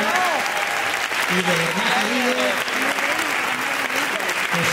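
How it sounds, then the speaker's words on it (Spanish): Audience applause for an orchestra, a dense and continuous round of clapping that runs throughout while someone speaks over it. "voy a pedir nuevamente un caluroso aplauso para esta maravillosa orquesta"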